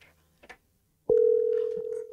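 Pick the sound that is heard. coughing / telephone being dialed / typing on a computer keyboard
telephone being dialed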